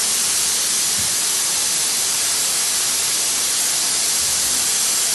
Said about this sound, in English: There's a tad bit of steam.